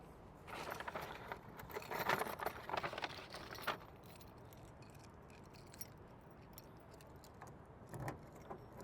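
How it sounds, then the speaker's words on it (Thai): Car keys jangle as they are picked up inside a used pickup truck, a burst of bright metallic clinks for a few seconds, then a quiet interior with a faint rustle near the end. "ผมขอหยิบกุญแจนิดนึงนะครับ"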